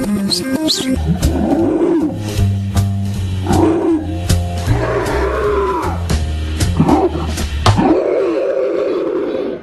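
A deep, growling video game creature voice processed through real-time audio filters, with a gritty edge, roaring and snarling in several bursts with a low droning bed beneath it.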